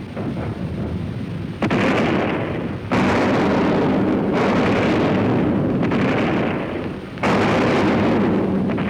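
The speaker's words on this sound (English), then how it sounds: "Captain Foley, have your gunners keep smartly at their work" Heavy naval cannon fire from warship gunners in a sea battle, a continuous roar of booming broadsides with several sharp new blasts cutting in, loud and close throughout.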